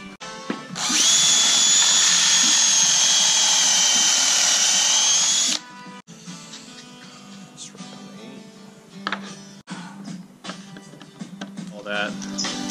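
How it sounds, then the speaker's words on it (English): A power drill whines steadily at high speed while boring into an old piece of wood during custom cabinet building for a school bus conversion, then stops, followed by clattering handling noises and workshop sounds. "doing test drills on like an old piece of wood"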